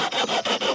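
Glority DJS-20 folding Japanese pull saw cutting hazel wood on its coarse edge, five or six rapid, rhythmic rasping strokes heard up close with short gaps between them.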